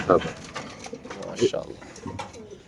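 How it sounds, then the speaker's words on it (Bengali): A caged male racing pigeon with a leg ring, offered for sale, gives repeated throaty coos close by while people talk in the background. "এটা একটা রানিং কবুতর"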